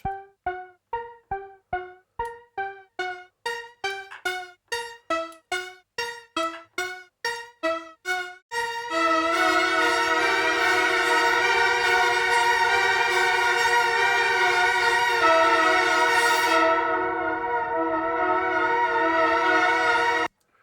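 A bright Diva software synthesizer with extreme microtuning first pulses in rapid repeated notes, then swells into a dense, sustained, slightly dissonant chord that holds for several seconds before cutting off.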